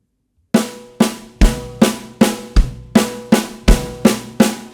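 A drum kit plays a steady groove with an added kick on the second right-hand stroke: about ten evenly spaced, punchy hits with ringing decays, close and fairly loud, in a clinic setting.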